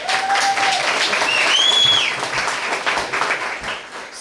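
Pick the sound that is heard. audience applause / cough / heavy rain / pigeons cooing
audience applause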